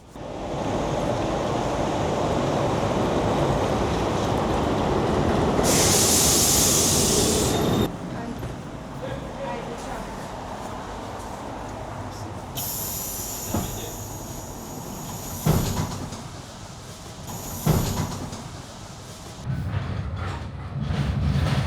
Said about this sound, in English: many of the streetcars were actually donated by Switzerland, like the one I'm sitting in right now